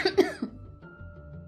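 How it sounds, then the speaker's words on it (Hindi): A woman coughs hard twice in quick succession, close and loud, followed by quiet room tone and a faint thump at the end. "बहुत जोर से खांसी आई"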